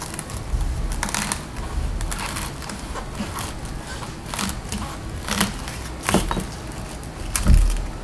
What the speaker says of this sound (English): So let's say I just want to cut this right here.